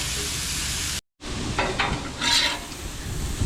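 Seasoned chicken strips sizzle on a Blackstone griddle after flipping, a loud steady hiss broken by a brief silence, then scraping and stirring over renewed frying.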